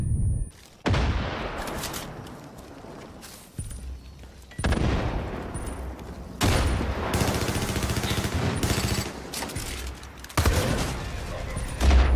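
Repeated bursts of gunfire and booming shots from the Far Cry 5 video game, loud volleys starting and stopping across the stretch, with a faint voice underneath at times.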